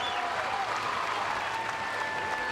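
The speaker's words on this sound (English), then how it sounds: "The crowd's going crazy." A large crowd at the CrossFit Games final applauds and cheers steadily, a dense continuous wash of clapping with a faint whistle running through it.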